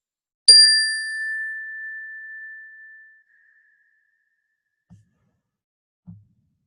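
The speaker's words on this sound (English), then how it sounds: "you're just going to listen to the chime and give a thumbs up when you stop hearing it" A single bright chime is struck once and its clear ringing tone fades slowly into silence over a few seconds, followed by two faint soft bumps.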